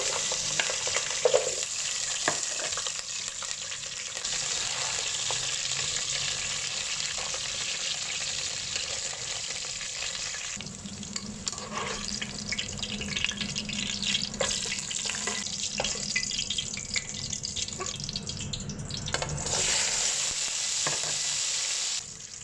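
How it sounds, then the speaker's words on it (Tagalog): Potato pieces and saba bananas fry in hot oil for a pork pochero, a continuous moderate sizzle with scattered pops and occasional stirring, no voices. "Iprito muna natin yung patatas at saka yung saging na saba."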